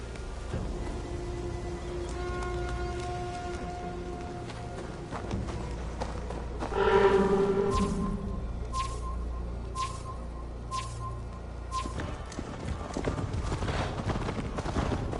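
A horse gallops in Assassin's Creed Valhalla, its hooves beating in a fast, steady rhythm that swells briefly in the middle while game music and effects play underneath.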